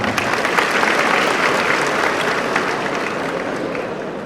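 An audience at a transport-school graduation ceremony applauds loudly and steadily, a dense wash of many hands clapping that holds for several seconds and eases off only slightly toward the end.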